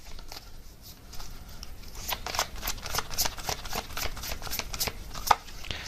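Tarot cards being shuffled by hand, a steady run of crisp riffling flicks and snaps at close range, moderately loud and with no talking.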